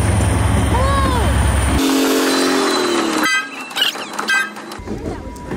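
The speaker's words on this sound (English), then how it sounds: "Here comes a train." A passing train's horn toots loudly up close, then the noise breaks off into quieter clanking and faint rail sounds, with brief voices.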